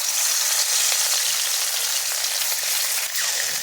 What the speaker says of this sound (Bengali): তেলটা গরম হয়ে গেছে, এর মধ্যে আমি এখন মাছগুলোকে দিয়ে দেব।